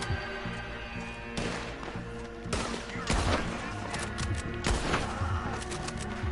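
Sniper rifle fire in Red Dead Redemption 2, a sharp report over a dense bed of game sound, followed by several loud cracks spread across the middle and end.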